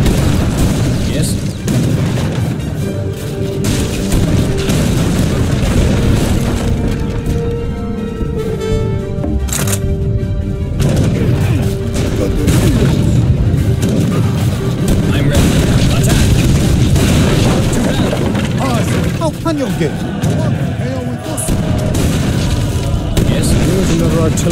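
Artillery fire in the Age of Empires III War Chiefs campaign, Battle of Morristown, sounds as steady booming cannon blasts over dense battle noise, with a voice talking through it.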